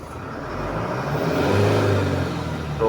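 A 2016 Chevrolet Colorado with a low-power, delayed-RPM fault revs up at close range, its engine rising into a steady, swelling rumble and whir before easing slightly at the end.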